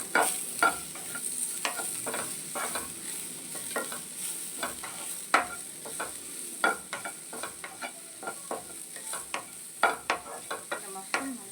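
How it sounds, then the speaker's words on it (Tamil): A spoon stirs mushrooms and beans sautéing in a pan, soft steady sizzling with repeated scraping strokes against the metal, close up and alone. "இப்போ மஷ்ரூம் போட்டு ஒரு 30 செகண்ட் மட்டும் இதை நல்லா வதக்கிட்டு மூடி போட்டு குக் பண்ணிக்கலாம்"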